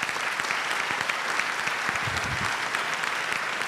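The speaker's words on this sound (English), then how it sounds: "Ladies and gentlemen, shall we please applaud Chancellor Nobles?" Audience applause following a university public lecture by a chancellor, a steady, dense wash of clapping that fills the whole stretch at even level with no voices over it.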